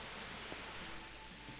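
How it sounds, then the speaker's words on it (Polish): Steady, even rainfall hissing in Kingdom Come: Deliverance, a soft continuous wash of drops with no breaks, faint and alone. "co z tego, że pada deszcz"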